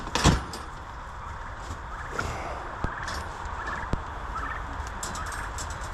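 Turkeys gobbling at a backyard farm where chickens are being butchered, a loud burst of gobbling near the start followed by fainter repeated gobbles and short clicks and knocks against a steady outdoor background.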